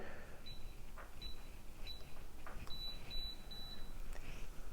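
A series of short, high electronic beeps from a Schlage keypad door lock sounds at intervals over quiet background noise, with soft clicks between them.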